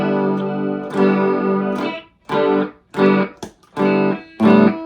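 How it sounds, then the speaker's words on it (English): An electric guitar in drop D tuning plays through a Peavey Stereo Chorus 212 amp with the chorus effect on and the reverb off. Several sustained chords ring out alone, each separated by short pauses, with a shimmering, slightly distorted tone. "we'll turn off the reverb, we'll turn on the chorus."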